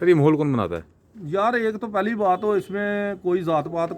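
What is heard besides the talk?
None of the usual background noises is heard.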